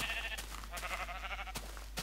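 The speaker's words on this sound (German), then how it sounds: "das ist ein Schaf" Sheep in the video game Minecraft bleat in a quick run of wavering calls, faint against a steady low hum, with sharp clicks scattered through.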